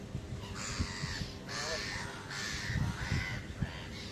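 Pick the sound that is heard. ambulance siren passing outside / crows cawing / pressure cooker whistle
crows cawing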